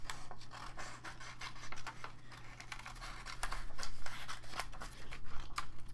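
Scissors snip a little girl's picture out of a sheet of printed music for Christmas gift tags, giving close, dry cutting and paper-rustling sounds in an irregular run over a steady low hum, with no talking.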